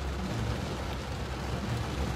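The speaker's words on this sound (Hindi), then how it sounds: "ये बारिश बहुत तेज है।" Heavy rain pours down in Patna's Kankarbagh area, a dense, steady wash of noise with no breaks, loud and continuous throughout.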